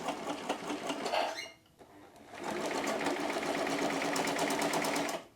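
An old Pfaff sewing machine starts up after decades unused, first giving a brief stuttering run, then a pause, then a steady, close, rapid mechanical clatter that goes on for several seconds, with a voice over the start.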